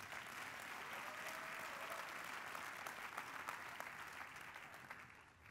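A church congregation claps during a prayer service, a dense, steady roar of many hands that holds evenly throughout and tapers slightly at the end, heard from some distance.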